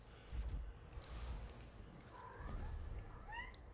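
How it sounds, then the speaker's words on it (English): A pet cat meowing indoors, a few faint, short rising cries toward the end over a low room murmur. "I hear my cat."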